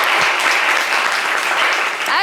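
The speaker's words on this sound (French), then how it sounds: "applaudissez pour Issouf bien fort, s'il vous plaît" Studio audience applause on a live French-language radio show, steady dense clapping that stays loud and close throughout, with a faint voice mixed underneath.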